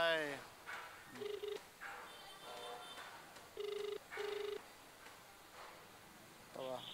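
A telephone rings out on an unanswered call, with repeated short electronic ring bursts heard faintly through a handset, interleaved with people talking.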